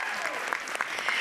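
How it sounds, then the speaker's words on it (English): Studio audience applauds a guest at a women's success event, a steady wash of many hands clapping at moderate loudness with a few sharper claps standing out. "Can we please give her a round of applause?"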